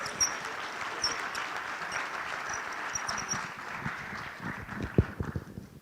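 Audience applause at the Combating Corruption Summit 2025, a steady roomful of clapping sustained throughout, with a few louder claps near the end.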